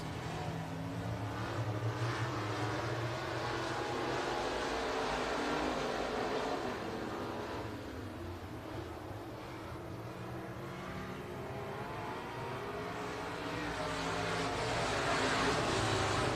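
Engines of USRA Limited Modified race cars drone steadily at a distance during a heat on a dirt oval, a continuous roaring wash that swells again near the end, with faint background chatter.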